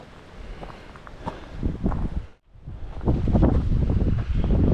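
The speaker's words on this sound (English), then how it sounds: "It's a pretty breezy day today." Strong wind buffets the microphone on a bluff trail on a breezy day, a loud rumbling roar that drops out for a moment and then returns even stronger.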